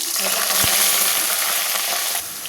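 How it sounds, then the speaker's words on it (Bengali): Potatoes fry in oil in a wok with a dried chilli, bay leaf and cumin tempering, giving a loud, continuous hiss and sizzle close up, with a single soft clink of a utensil partway through. "আলুটা হালকা ভাজা হয়ে গেছে"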